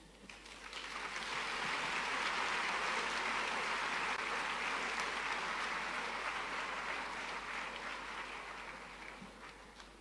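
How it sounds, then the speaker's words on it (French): An audience applauds at a Côte d'Ivoire public service day ceremony, a dense, sustained burst of clapping that swells up quickly, holds strong for several seconds, then tapers off near the end. "On va l'applaudir encore une fois, mesdames et messieurs."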